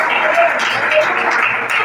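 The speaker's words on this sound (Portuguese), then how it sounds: "pode aplaudir" A church congregation applauding, a steady, dense wash of clapping at close range that holds at an even level for the whole stretch with no talk over it.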